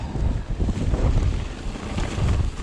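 Strong wind gusts roar and buffet the microphone along a bike trail in South Wales, forming a continuous, rushing low rumble with no break throughout.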